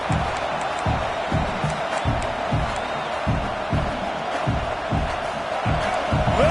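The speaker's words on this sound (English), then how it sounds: "Listen to this crowd just shaking the girders of this place, trying to help their defense." A college football stadium crowd roars continuously in a dense wash of noise, with rhythmic pulsing thumps of stomping and chanting driving under it to rattle the opposing offense.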